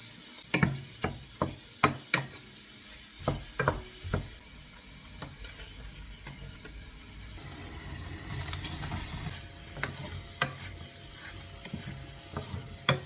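Chicken pieces and onion fry in a pan for a dish of chicken with olives and small tomatoes, a soft steady sizzle broken by sharp scraping clicks of stirring, close and fairly quiet.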